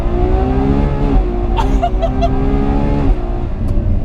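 A Ferrari 812 Superfast accelerates hard on the Fiorano track, its V12 roaring loudly and rising in pitch with a brief shift midway before climbing again.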